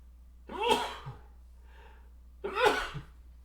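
Two sneezes about two seconds apart, each a sharp burst with a short intake before it, close and fairly loud with quiet between them.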